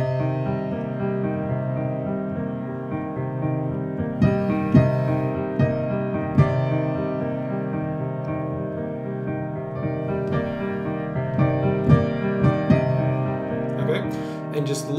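Melody built from only two notes, played with wide gaps and varied grouping to explore space, sounding over a sustained harmonic instrumental bed with sparse, spaced accents and some voice-like activity near the end.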